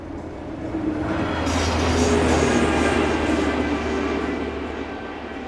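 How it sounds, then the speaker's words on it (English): A railway tamping machine rumbles past on the track toward Barnetby, a steady, loud, close roar that swells through the middle and eases slightly at the end, with no voices. "This tamping machine is on its way to Barnetby."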